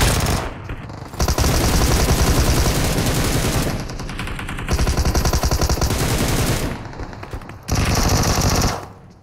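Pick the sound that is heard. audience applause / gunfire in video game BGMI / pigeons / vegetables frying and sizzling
gunfire in video game BGMI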